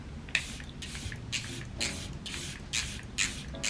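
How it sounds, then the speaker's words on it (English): A makeup setting spray, MAC Fix Plus in a refillable bottle, mists onto a face in about seven quick, close hissing bursts at a steady rhythm, with no voices. "I know this is a Charlotte Tilbury bottle, but this is actually MAC Fix Plus in here"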